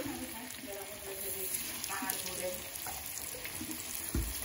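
Mendol tempeh cakes frying in hot oil in a home kitchen, a steady soft sizzle throughout with occasional clinks and a brief thump near the end, while voices are heard faintly.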